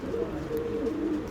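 Andhra and Malwai pigeons in a loft cooing softly, a low, wavering, throaty coo repeating over a quiet background, close and gentle, with no voices.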